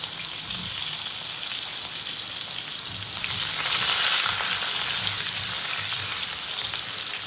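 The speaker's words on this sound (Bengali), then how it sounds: "আলুটাকে হালকা আছে ভেজে নেব আমি" Potato pieces frying in hot oil in a pan make a loud, continuous close sizzle that swells slightly partway through.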